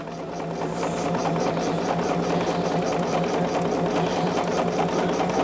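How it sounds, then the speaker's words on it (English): A sewing machine stitches quilt binding a quarter inch from the edge, a steady close motor whir with rapid needle pulses that run unbroken throughout. "I'm sewing it at 1/4 of an inch"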